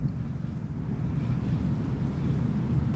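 Wind blowing outdoors at dusk, a steady low buffeting rumble against the microphone throughout, with no talking.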